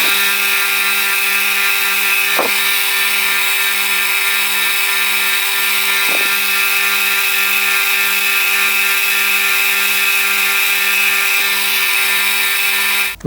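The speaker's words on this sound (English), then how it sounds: "I'll just go over to the grinder and just tidy that edge up" A bench grinder runs steadily while a small metal part's edge is tidied for a hot air engine crank, a loud constant motor whine and hum with a few brief scraping touches as metal meets the wheel.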